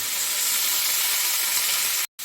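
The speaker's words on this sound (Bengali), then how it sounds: "এই যে অল্প তেলে আমি এই পটলটাকে আমি ভেজে নিচ্ছি" Pointed gourd (potol) pieces frying in a little oil, a bright steady hiss of sizzling close up that stops abruptly for a moment near the end before resuming.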